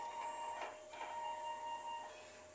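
A DTF printer runs a print head cleaning cycle, giving a quiet, steady mechanical whir with faint tonal hums and a couple of soft pulses.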